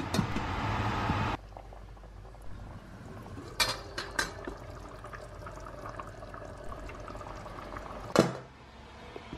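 Water pours into a pot of goulash with potatoes, a loud splashing rush for about a second, then quieter bubbling and a few clinks and knocks, ending with another brief clatter.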